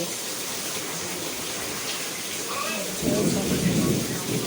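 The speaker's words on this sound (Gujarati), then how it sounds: "બહાર સરસ મજાનો વરસાદ આવી રહ્યો છે" Steady rain hisses outside, a constant wash of noise with a low rumble swelling partway through.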